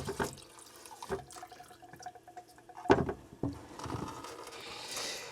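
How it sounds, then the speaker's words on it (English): Fluid draining from a Truma AquaGo water heater canister: uneven trickling and splashing water with irregular drips and a louder splash midway, close and moderate in level, no talk. "You want to drain the fluid out of the canister."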